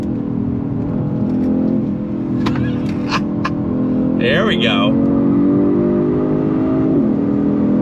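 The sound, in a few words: Genesis G70 engine revving and downshifting, 8-speed automatic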